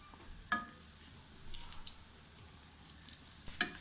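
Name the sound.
beignets frying in oil, being turned over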